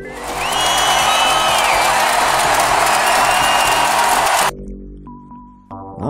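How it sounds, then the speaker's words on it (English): A crowd cheers and applauds loudly in the Micro Machines racing video game, a dense burst of roaring and clapping lasting about four and a half seconds before cutting off abruptly into quiet electronic game tones. "Crowd goes wild."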